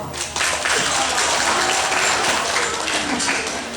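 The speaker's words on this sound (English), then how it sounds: "let's give her a nice round of applause for welcome" An audience applauds for a young caracal being introduced at an animal presentation, a dense burst of clapping that starts abruptly and holds loud for several seconds.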